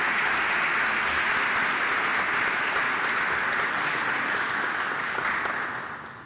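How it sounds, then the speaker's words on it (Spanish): Sustained applause from a conference audience at the OEA, dense and steady throughout before tapering slightly at the end, with no talk over it. "Para él solicito un fuerte aplauso."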